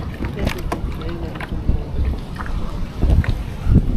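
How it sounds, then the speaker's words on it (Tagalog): Strong gusting wind buffets the microphone on the Baruyan River, with people talking and faint boat sounds beneath. "sobrang lakas ng hangin dito."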